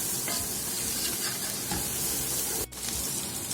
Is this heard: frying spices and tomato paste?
yes